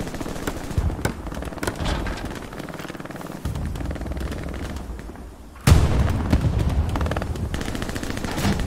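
Sustained gunfire in the World War II shooter Hell Let Loose, with rapid machine-gun bursts and heavier booms over a constant battle rumble, growing louder and denser partway through.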